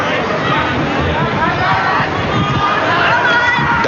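Steady murmur of a stadium crowd of nearly 9,000 at a 1988 Penrith Panthers versus Brisbane Broncos rugby league night match, a continuous broad hubbub holding at an even level throughout.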